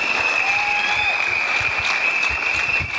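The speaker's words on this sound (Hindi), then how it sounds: "जोरदार तालियां दीजिए" Loud, sustained applause from a crowd fills the whole stretch, dense and even, with a faint tone ringing beneath it.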